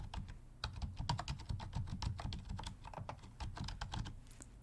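Rapid, dense tapping of keys on a computer keyboard while answers are written down during a school nurse roleplay, close and soft, continuing steadily without any talking.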